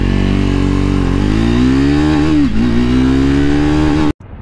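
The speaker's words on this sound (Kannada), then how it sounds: "ನನಗೆ ಹೊಸ ಗಾಡಿ ರೆವ್ ಮಾಡಬಾರ್ದು, ಆದ್ರೆ ಒಂದ್ಸಲ ಮಾಡ್ತಾ ಇದೀನಿ" A new Triumph Speed 400 motorcycle engine revs hard and close, its pitch climbing and wavering in a single sustained throttle blip before cutting off abruptly near the end.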